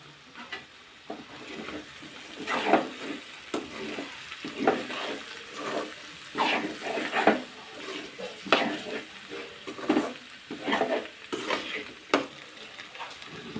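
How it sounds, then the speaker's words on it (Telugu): Cabbage and chana dal curry stirred and frying in a pan: steady sizzle with repeated scraping strokes of a spoon against the metal, close and fairly loud, with no voices. "మూడు నిమిషాల పాటు వేగిన తర్వాత చివరగా కొత్తిమీర వేసుకొని కలిపేసి"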